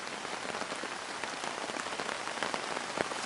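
Rain pattering steadily onto a tarp during a thunderstorm at a camp in Nova Scotia, a dense close patter of drops with scattered louder splats, and no voices or thunder evident.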